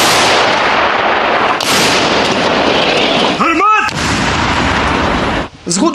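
A loud, sustained roar of howitzer fire with booming blasts on the front line near Toretsk, briefly broken by a shouted voice, then another burst close by.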